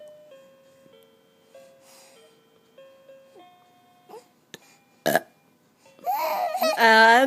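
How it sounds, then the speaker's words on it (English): A woman lets out a short, abrupt burp near a baby, amid sparse toy-like tones and small vocal sounds, followed by louder, sustained voiced sounds near the end. "It was just a burp. I was just burping."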